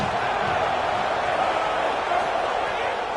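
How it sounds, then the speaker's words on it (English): College football stadium crowd at a game against #25 Florida, a dense, steady roar of many voices filling the space without break, loud and continuous. "This crowd ready to make its presence known."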